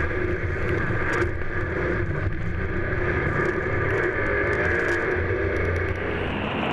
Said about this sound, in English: you can actually hear the engines revving